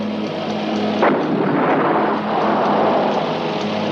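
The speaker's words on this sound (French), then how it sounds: "Cette explosion nous indique exactement où il est." An explosion in an action film booms out as a deep, continuous rumbling roar, with a sharp burst about a second in, rolling on loud and close for the rest of the moment.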